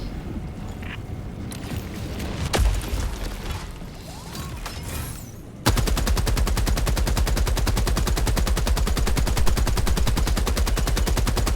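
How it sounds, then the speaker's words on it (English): A deployed machine gun turret in the video game Helldivers 2 fires a long, steady stream of rapid, loud shots after a few seconds of distant battle rumble and scattered impacts. "Deploying weapon emplacement."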